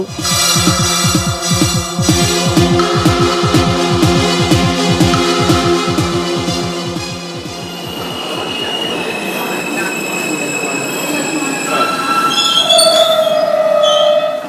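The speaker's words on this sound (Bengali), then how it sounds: "বিকট আওয়াজ করে ট্রেনটা আবার দাঁড়িয়ে পড়ল।" A train screeches to a stop as a sound effect in a spoken horror story, with loud rhythmic wheel clatter slowing down under high sustained metallic squeals of the brakes and wheels.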